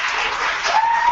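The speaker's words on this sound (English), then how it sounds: "Come on, give them a big round of applause" An audience at a student union election Q&A claps for the candidates, a steady, dense round of applause throughout a brief moment with no voices.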